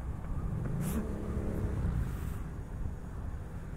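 An FKM Victorino 250i motorbike engine revs up once close by and then settles back to a rough, throaty idle.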